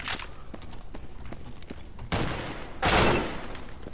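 Gunfire from a fast-firing weapon in CS:GO, with two short loud bursts cutting in near the end over a faint clicking background, and no talk.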